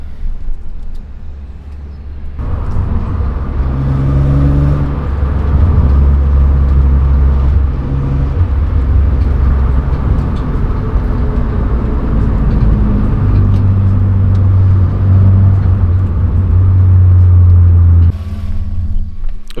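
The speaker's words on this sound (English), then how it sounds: "I'm not used to driving petrol cars again" An old petrol car engine drones steadily while driving in nice weather, a loud low rumble that swells and shifts pitch with acceleration and gear changes, with no talking over it.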